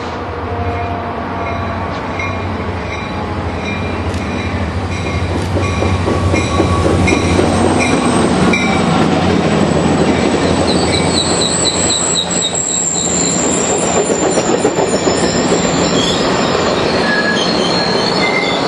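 A model train F40 locomotive rolls past with a rising mechanical whir, rhythmic clicking wheels, and high metallic squeals growing louder as it nears.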